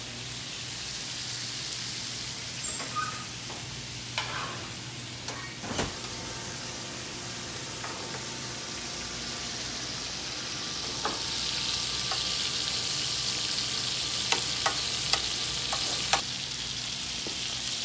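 Sausage frying in oil and fat gives a continuous close sizzle with occasional sharp pops and clicks, growing slightly louder toward the end.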